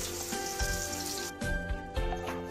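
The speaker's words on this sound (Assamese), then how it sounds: "এতিয়া আমি পিঁয়াজখিনি ভাজিম।" Onions frying in hot oil in a pan for a chicken kurma, a close, continuous crackling sizzle with short bursts of louder spattering and no talking.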